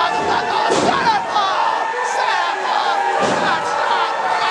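Wrestling crowd at a UCW show cheering wildly, a loud continuous roar of voices with shouts and thuds rising out of it throughout.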